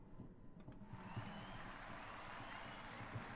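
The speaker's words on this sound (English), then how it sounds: "this round of applause coming from the audience" Applause from a large seated audience in a theatre-like hall, a steady wash of many clapping hands that swells after the first second and holds fairly loud and diffuse to the end.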